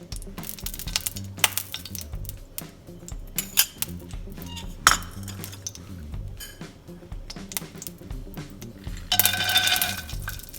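Peanuts fry and roast in a little oil in a pan, with metallic clinks and scrapes of stirring over a low sizzle, close up and without voices.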